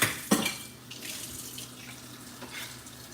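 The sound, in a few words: tap water running in kitchen sink with dishes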